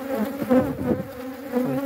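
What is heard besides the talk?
honey bees buzzing and attacking at the hive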